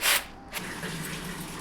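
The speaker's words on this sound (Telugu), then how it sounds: "పప్పుని ఇలా శుభ్రంగా కడిగేసుకొని ఒక నాలుగు గ్లాసులు వాటర్ పోసుకోండి" Water splashes and pours over lentils being rinsed, with a loud gush at the start, then a steady softer trickle and slosh close by.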